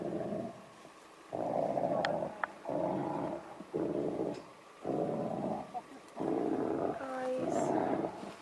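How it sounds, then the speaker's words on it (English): Deep, rumbling animal growls in the dark near a campsite, several long throaty bursts repeating with short pauses, loud and close. "Deep, rumbling growls rolled through the darkness, close enough to raise the hair on the back of their necks."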